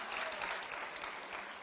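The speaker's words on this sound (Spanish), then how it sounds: "Fuerte aplauso Marta Funes y Carlos Pérez" Crowd applauding at a sports awards gala in Canet d'en Berenguer, a brief, fairly quiet burst of dense clapping.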